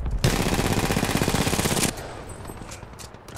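Rapid automatic gunfire in Titanfall 2, a loud continuous burst of shots lasting under two seconds, followed by a quieter stretch of lighter game sounds.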